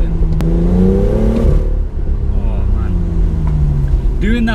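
A 2018 BMW M2 engine revs on and off the throttle from inside the car, its pitch rising and falling in loud surging sweeps while someone talks over it.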